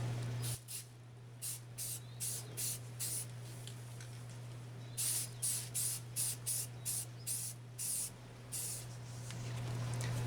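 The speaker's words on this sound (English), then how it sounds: "I'm just going to use some self-etch primer just right out of the rattle can, just on the bare metal areas." Self-etch primer sprayed from an aerosol rattle can onto bare metal in a car's door jamb, heard as a run of short hissing bursts in a steady rhythm, close and fairly quiet over a constant low hum.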